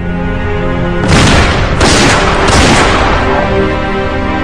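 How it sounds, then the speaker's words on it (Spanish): A buffalo hunter's rifle fires, heard as loud, sharp booming bursts, three in quick succession, over a continuous bed of sustained musical tones. "Cazadores blancos como Frank Meyer utilizan un solo disparo"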